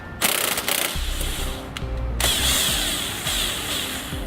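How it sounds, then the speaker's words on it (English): Ratchet driving an 18mm socket to loosen a bolt while fitting a Roadmaster Direct-Connect base plate on a 2007 Jeep Liberty, with close metallic clicks and clanks amid workshop noise, no talk. "Still gonna be using an 18mm socket to loosen that bolt."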